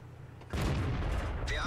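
A tank destroyer's main gun fires in World of Tanks: a single abrupt, loud, close blast that sets off a sustained rumbling roar, with a short tonal ring near the end.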